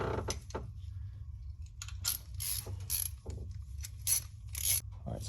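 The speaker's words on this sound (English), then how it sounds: "I'll grab the socket wrench" Socket wrench ratcheting in brief bursts on the battery terminal of a 2011 Honda Odyssey EX-L, with quick close clicking strokes separated by short pauses over a low background hum.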